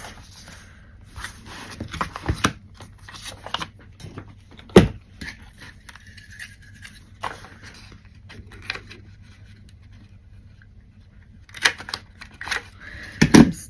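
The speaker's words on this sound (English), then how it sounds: "Scissors." Scissors cut through craft material in scattered, crisp snips and clicks, some in quick bursts and others spaced seconds apart, close and fairly loud against a quiet room with no talking.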